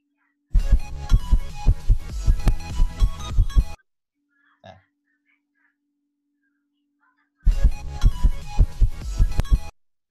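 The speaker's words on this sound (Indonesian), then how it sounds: "Kita membuat suara detak jantung. Ini menggunakan kain" Foley heartbeat made by handling cloth: two long runs of steady, rhythmic, muffled thumping, loud and close, separated by several seconds of near silence with one faint tap.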